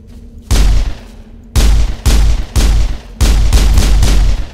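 Loud gunshots in the video game Mass Effect: one blast, then a rapid run of three, then a longer burst of booming fire, with no talking.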